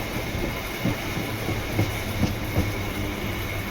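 An EMU suburban train on the Chennai Beach to Tambaram line rumbles steadily from inside a carriage, with rhythmic wheel clacks over rail joints and a constant roaring hiss.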